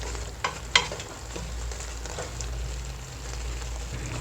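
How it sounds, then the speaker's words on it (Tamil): Bitter gourd sautés in hot oil for a bitter gourd thokku, giving a steady, close frying sizzle throughout with a couple of sharp clicks near the start and no talking. "இப்போ இதனோட பச்சை வாசனைலாம் போகிற அளவுக்கு இது நல்லா வதங்கணும்."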